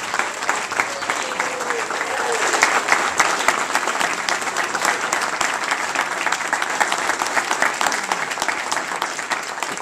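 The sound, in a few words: audience applauding police honorees at ceremony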